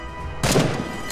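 A single loud, sharp sniper rifle shot cracks out close by in the survival shooter game The Front, bursting suddenly over a low background and tailing off within a fraction of a second.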